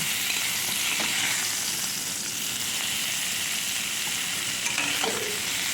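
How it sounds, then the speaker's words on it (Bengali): Cauliflower pieces fry in oil in a wok, giving a steady close sizzle with occasional scraping stirs, and no talking. "আমার ফুলকপিগুলো বেশ ভালো মোটামুটি ভালোভাবে ভাজা হয়ে গেছে"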